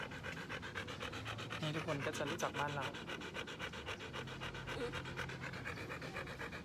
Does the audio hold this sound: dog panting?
yes